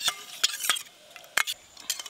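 A spoon clinks briskly against a cup while a pinch of yellow biryani food colouring is stirred into hot milk, giving several sharp, close taps and scrapes in quick succession.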